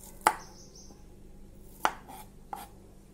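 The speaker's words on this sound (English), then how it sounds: "I'm going to cut their bottom and in the front," A knife chops through bilimbi fruits on a cutting board while trimming their ends for a Goan pickle: three sharp, separate cuts spaced about a second apart, clear and close, with quiet room tone between them.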